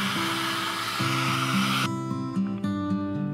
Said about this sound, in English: You can leave it to dry, or in this case, blow dry it to hasten the process.